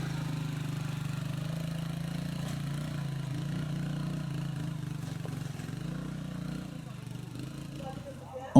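A motorcycle engine on a rough mountain road in Haiti, a steady, low, rumbling drone that stays fairly quiet and even throughout, with talk over it and a brief knock at the end.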